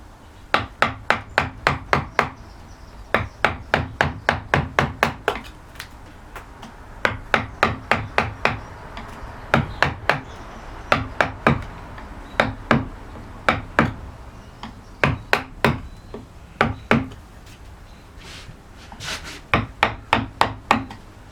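A half-inch wide carving tool clears the background of a carved lozenge wood panel, driven in clusters of sharp woody taps and clicks in quick bursts with short pauses between, close and crisp.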